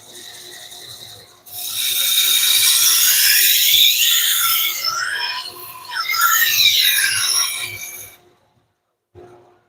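Culinary knives from a high school program are sharpened on a grinder, giving a loud, harsh grinding and rasping that runs for several seconds with shifting pitch, then stops abruptly.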